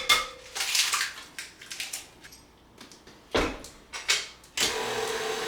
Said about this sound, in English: I'm gonna beat this together for about 2 minutes